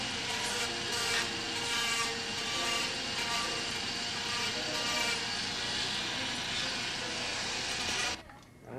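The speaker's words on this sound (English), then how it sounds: "put a Sandaflex wheel on it just to cut away those burrs and finish the prosthetic edge" Flexible shaft tool fitted with a Sandaflex abrasive wheel trimming burrs off the edge of a prosthetic socket, a steady close whirring grind that runs continuously and cuts off near the end.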